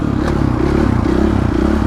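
Dirt bike engine droning loudly and steadily as the rider holds a wheelie across an urban bridge, with rattling clatter mixed into the close, continuous motor sound.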